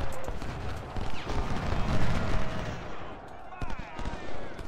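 Cannon artillery fire from the Civil War strategy game Ultimate General: Civil War, heavy booms and crackling volleys rolling together in a dense, continuous battle din with a brief lull near the end.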